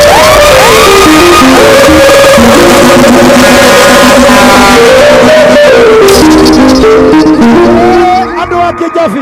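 A large, loud crowd at the Kigooco Fest launch shouts and whoops continuously while music with a melodic line plays over it, the noise fading out near the end.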